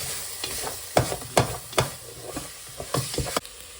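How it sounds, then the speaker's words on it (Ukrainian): A spoon stirs Szeged goulash of meat and crushed garlic in a sizzling pot, with scraping strokes about every half second over a steady fry hiss, close and alone. "Перемішаємо."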